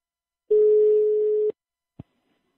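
Telephone line tone while placing a call: a single steady electronic tone holds for about a second, then cuts off, followed by a short click; quiet otherwise, no talking.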